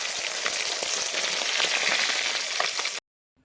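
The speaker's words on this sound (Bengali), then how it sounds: "সর্ষের তেল দিয়ে দিয়েছি। এবার আমি মাছগুলো এক এক করে কষে নেব।" Tilapia fish frying in hot mustard oil, a steady loud crackling sizzle with dense spattering pops that runs without pause for three seconds, then cuts off to silence.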